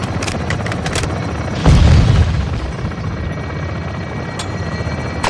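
A Call of Duty Modern Warfare II helicopter gun run: steady rotor and engine rumble with a heavy booming burst of fire near the start, then continuing noisy roar and scattered sharp bangs.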